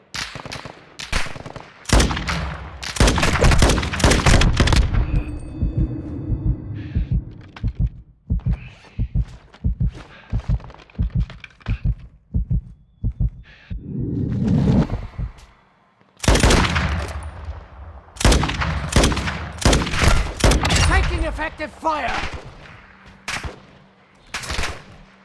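Gunfire in Call of Duty: Modern Warfare II DMZ mode: loud, close bursts of rapid automatic shots and single cracks come in clusters across the stretch, with a short lull midway before the firing resumes heavily.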